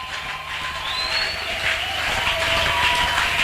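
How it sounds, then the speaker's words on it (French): Congregation applause during a church sermon by a pastor, a steady broad wash of clapping at moderate level that holds and swells slightly over a few seconds, with faint crowd noise mixed in. "Tu peux encore l'applaudir."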